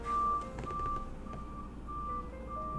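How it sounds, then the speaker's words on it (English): A garbage truck's reversing alarm beeps repeatedly in a steady, evenly spaced pattern over low engine rumble, heard from a short distance. "the garbage truck is here"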